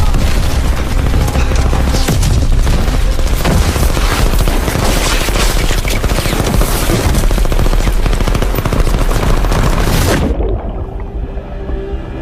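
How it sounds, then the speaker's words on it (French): Machine gun fire in an action film: a dense, continuous, loud burst of rapid shots and booms that runs for about ten seconds, then cuts off abruptly and leaves a quieter tail. "À toutes les unités, dites mitrailleuse active."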